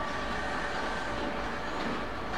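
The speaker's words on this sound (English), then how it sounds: "Class 87 leaves with service 1D66" British Rail Class 87 electric locomotive departing London Euston on the evening service to Holyhead in the 1980s, a steady broadband rumble and hum with a faint tonal whine, sustained and moderately distant, no talk.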